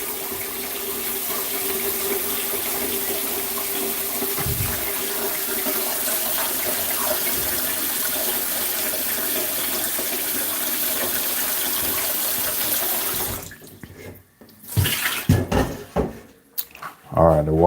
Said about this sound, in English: I'm just catching some water